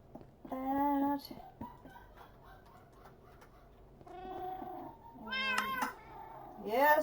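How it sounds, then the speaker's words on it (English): A house cat meows three or four times, clear and fairly close, with short pauses between calls over a quiet room background while a game session goes on; no talking. "Yes, Kitty, we hear you."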